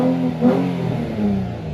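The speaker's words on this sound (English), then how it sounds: "you got all the VQ noises as well" A Nissan VQ engine in a car fitted with a carbon Kevlar body kit revs briefly, a loud close rising and falling engine note with droning harmonics and no voices.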